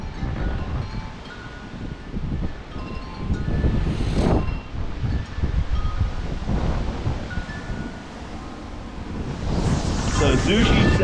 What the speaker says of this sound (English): the wind is coming from one direction on one side of the house